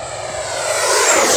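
An FMS Avanti 90mm electric ducted-fan RC jet on 6S lipo batteries screams past at full throttle, a loud rising whoosh that builds and swells over the short pass, with no voices.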